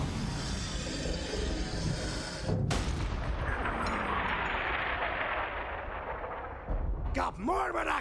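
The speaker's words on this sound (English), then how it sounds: "Load up the cannon so we can savor the sweet taste of vengeance." A cannon fires in the Borderlands 3 video game: a heavy boom followed by a long, loud rumbling blast that decays over several seconds, with a character's voice cutting in near the end.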